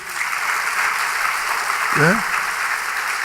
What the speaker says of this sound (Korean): 박수 한 번 더 해주세요.